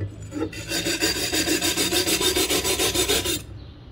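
A steel wire brush scrubs rust off a metal part in fast, rhythmic back-and-forth strokes, a loud, close raspy scratching with regular pulses, starting after a brief pause and stopping cleanly near the end.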